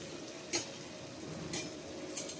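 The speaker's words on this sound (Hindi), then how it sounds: "इस तरह से इनको क्रिस्पी होने तक हम फ्राई करेंगे" Moong dal kachoris fry in hot oil until crisp, giving a continuous soft sizzle with a few sharp utensil clinks at roughly one-second intervals.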